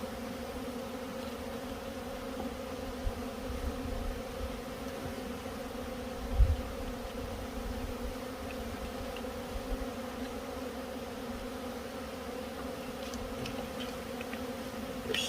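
Honeybees at an open hive hum in a soft, steady drone, with a faint low thump partway through and nobody speaking.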